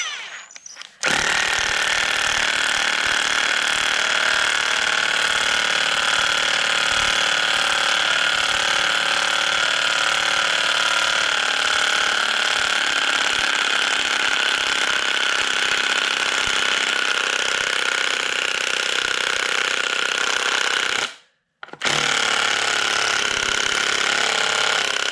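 Hitachi 10.8V cordless drill/driver running under load, a steady continuous whine held for about twenty seconds, cutting out briefly before picking up again near the end; loud and close, no talking.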